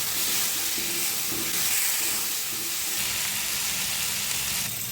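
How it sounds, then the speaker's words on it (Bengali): Spiced potato and fish fry with green chilli and tomato paste in a pan, a steady close sizzle and hiss with faint stirring scrapes throughout. "এখানে কাঁচা লঙ্কা টমেটোর পেস্টটাও আমি দিয়ে দেবো। ভালো করে কষিয়ে নেবো।"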